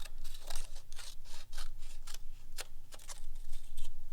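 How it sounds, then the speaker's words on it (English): Scissors cutting shapes out of coloured card give close, crisp snips in quick irregular bursts, each a short dry rasp with brief pauses between cuts. "Just go ahead and cut them as you see. You're cutting on your line."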